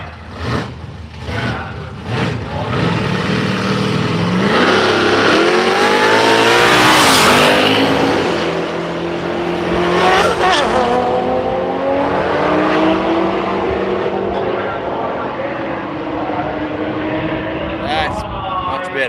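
Drag racing cars at a street machine drag event, turbocharged against supercharged, launch hard with a loud, sustained engine roar and rising revs close by, tire noise mixed in, as a commentator talks over it.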